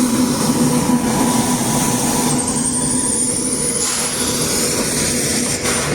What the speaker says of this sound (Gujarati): IRCTC Tejas express